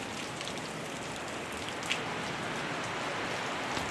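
Steady rain falls in a continuous, even hiss with scattered droplet ticks, broad and close, with no voices over it.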